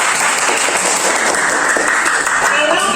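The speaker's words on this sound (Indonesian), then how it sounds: "tepuk tangan untuk kita semua" Loud, sustained applause from a group of people clapping together, a dense even patter with some voices mixed in.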